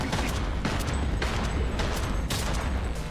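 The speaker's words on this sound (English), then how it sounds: "What the heck am I getting shot at?" Bursts of video game gunfire crackle in quick succession, several sharp shots in an irregular rhythm over a dense, noisy game background.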